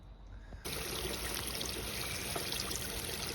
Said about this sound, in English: I'm just running water through it to flush out all of the vinegar stuff